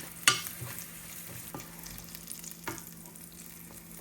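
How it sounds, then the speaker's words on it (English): Cumin frying in a hot pan for a ridge gourd (loofah) chutney: a steady low sizzle runs throughout, with a sharp stir or scrape near the start and a few fainter clinks later. No voices. "In this, add a little cumin and fry for few more seconds."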